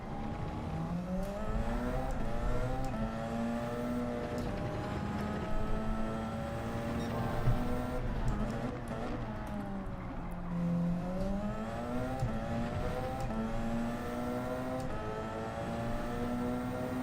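A Toyota Super Formula open-wheel race car engine in Gran Turismo 7 at Barcelona, a loud, continuous high-revving whine that climbs and drops with gear changes and turns, with no talk over it.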